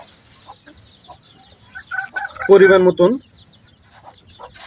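Chickens on a farm at feeding time give a short, loud burst of clucking. A person speaks quietly before and after it, and soft farmyard noise carries on underneath.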